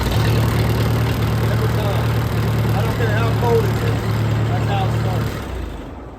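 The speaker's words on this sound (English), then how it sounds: "This is a 1954 tractor. It actually starts super easily." A 1954 Massey Ferguson Workbull 202 gas tractor runs with a steady low engine drone beside a pole barn workshop while someone talks over it, then the engine sound cuts off near the end.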